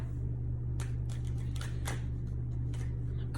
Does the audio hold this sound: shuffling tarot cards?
yes